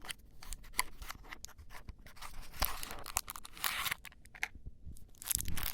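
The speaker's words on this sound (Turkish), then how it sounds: "Evet hemen açalım kutumuzu" Close crinkling, tearing and scratching as a pink cardboard toy box is opened by hand, a busy run of small rustles and rips throughout with brief quieter gaps and no talk.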